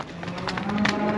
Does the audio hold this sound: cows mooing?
yes